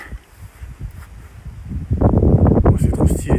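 Gusty wind beside a partly dried lake on an outdoor walk, faint and buffeting at first, then swelling into a loud, steady rush of wind across the microphone.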